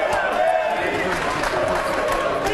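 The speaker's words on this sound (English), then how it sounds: "Giannetti with a very supportive crowd here." A supportive crowd cheers and applauds for poker player Giannetti at the 2011 World Series of Poker Main Event. A dense, steady wash of voices and clapping fills the whole stretch at a constant, fairly loud level.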